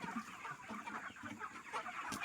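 A flock of chickens at a poultry farm holding about 400 birds clucks and murmurs continuously at moderate distance, overlapping calls rising and falling with no speech.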